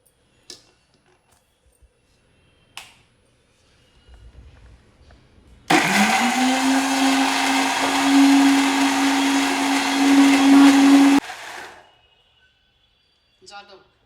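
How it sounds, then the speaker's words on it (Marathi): A mixer grinder whirs loudly for about five seconds while blending ginger and garlic paste with a little water, starting abruptly and cutting off sharply, with faint clicks and quiet handling sounds before and after. "आता मिक्सरवरती फिरवायचं."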